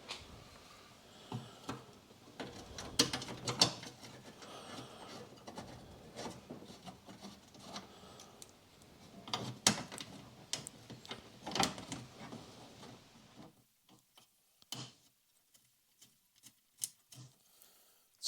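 Bolts are fitted by hand on the engine panel of a 2010 Honda Jazz 1.2 petrol, with scattered clicks, scrapes and metallic rattles close by, quietening toward the end.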